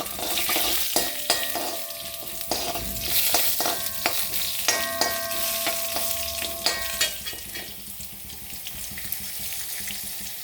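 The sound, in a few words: urad dal and dried red chilli frying in oil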